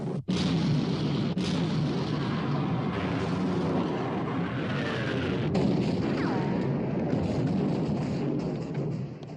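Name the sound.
warship guns firing in a film battle scene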